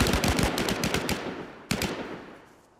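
A machine gun in the video game Last Man Standing fires a fast, loud burst, stops briefly, then fires a second burst that tails off, close by and with no talking.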